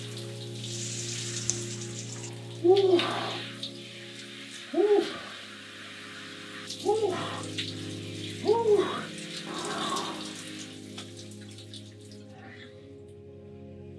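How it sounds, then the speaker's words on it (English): Cold shower water pours in a steady hiss, with a person letting out several short gasping exclamations over the running water. "30 second cold shower after a warm shower."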